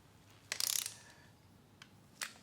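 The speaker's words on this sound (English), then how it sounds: "Now I can grab my torque wrench, and I'm going to set this to the factory spec, which is 18 foot-pounds." Ratchet clicks from a torque wrench tightening front accessory bolts on a Ford 5.4L 3V engine, with a short burst of rapid clicks followed by two single faint clicks in a quiet shop.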